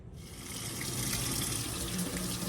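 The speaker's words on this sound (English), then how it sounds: "quickly run some water over them just to help them release from the mold." Lukewarm tap water runs over upside-down frozen homemade fudgesicle molds, a steady, fairly loud hiss and splash that holds constant from start to end.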